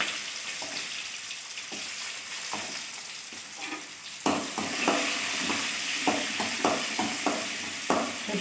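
Ten to fifteen cut small onions (shallots) dropped into hot oil with tempered spices in a pan: a steady sizzle jumps louder as they go in, followed by close, rhythmic scraping and stirring.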